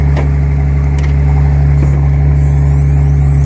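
A 1976 Datsun 280Z engine idles steadily with the exhaust silencer fitted, a loud, constant low drone with a strong hum and no revving, close by throughout.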